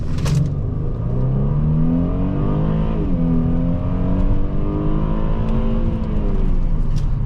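A 2015 Mercedes-Benz E350 4MATIC accelerates hard from a standstill to 60 mph, its engine note rising steadily through the gears with a brief dip at a shift, loud and continuous from inside the cabin.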